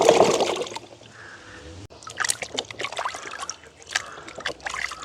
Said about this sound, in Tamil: திரும்பவும் நாங்கள் ஒருக்கா கழுவி எடுப்போம்